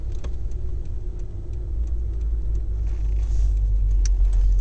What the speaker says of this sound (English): Just slowly edging our car forward using our clutch control